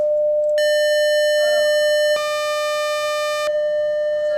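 A steady electronic test tone holds one pitch throughout, with clusters of extra frequencies switching on and off over it so it turns harsh and buzzy, then returns to the plain single tone.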